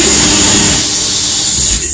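Akai AT2450 FM tuner putting out a steady, loud wash of static hiss that holds evenly throughout and drops slightly at the very end.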